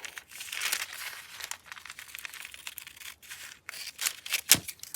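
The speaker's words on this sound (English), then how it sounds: "if you have the bigger scissors, it's less cuts" Close-up crinkly glassine paper rustles and snips in irregular bursts, large scissors cutting thin crackly sheets with a few sharper clicks near the end.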